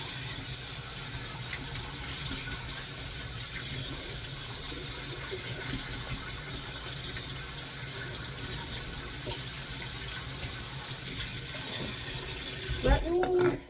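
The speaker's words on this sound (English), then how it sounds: "Gonna rinse these bowls out." Running water from a kitchen tap pours steadily over bowls being rinsed in a sink, a constant close gush that ends with a brief clatter.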